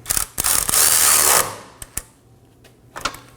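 A ratchet tightens two 13 mm bolts on a subframe bracket of a Nissan Maxima 3.5L V6: a fast, loud continuous clicking burst up close, followed by a few separate clicks and knocks.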